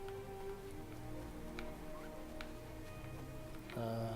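Steady rain in the Assassin's Creed III video game, a constant patter across the whole stretch over game music and ambience, with brief louder effects near the end.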